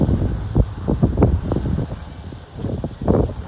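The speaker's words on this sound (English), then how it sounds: "Wow, is it windy?" Gusty wind buffeting a microphone beside a railway track in the Adams County countryside east of Cincinnati, a steady low rumble with uneven surges and dips, loud and close, with no one talking.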